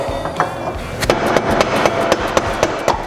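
A bolt being hammered through a vehicle differential, metallic taps coming in irregular bursts, sharp and close, over a low background hum.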